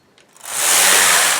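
Machine knitting carriage with a ribber sliding across the needle bed, a rising, hissing mechanical rush that swells quickly and holds loud and close for about a second.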